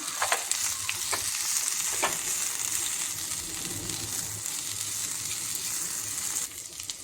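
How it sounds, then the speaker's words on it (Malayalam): Chopped colocasia leaves for thoran sizzle in a hot pan as a spoon stirs them, with scraping clicks over a continuous frying hiss close by and no voices. "പത്തില ഇട്ട് കൊടുക്കാം ഇട്ട് നമുക്കൊന്നിത് ഇളക്കി കൊടുക്കാം"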